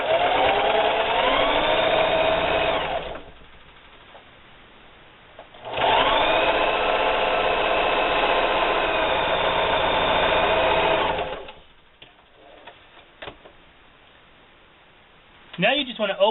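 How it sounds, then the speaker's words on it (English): A sewing machine runs a straight stitch through denim quilt pieces, whirring steadily in two long bursts of about five seconds each, separated by a quiet pause, with faint handling noises at the end. "Now I have my sewing machine set up on the length of 2 and on a straight stitch."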